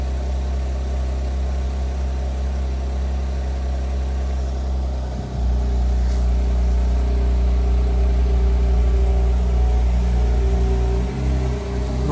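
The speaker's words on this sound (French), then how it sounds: "Le son Porsche, échappement sport." A Porsche fitted with a sport exhaust idles nearby with a deep, steady rumble, rising in level around the midpoint as the engine is blipped, with no talking.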